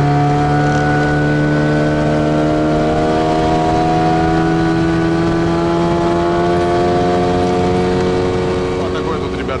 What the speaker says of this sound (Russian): Заодно мотор надо пробздеть.